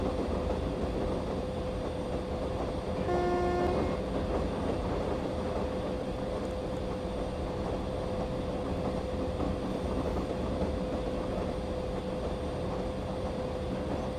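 The Karnataka Express running through a station, heard from inside as a steady low rumble of the moving train with a brief horn-like tone early on and no talking.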